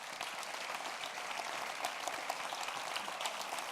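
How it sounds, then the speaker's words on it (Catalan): Audience applause at a political rally marking the centenary of the Soviet Revolution, a dense, steady wash of many hands clapping throughout, with no voices over it. "jo us demano per ell un fort aplaudiment perquè s'ho mereix"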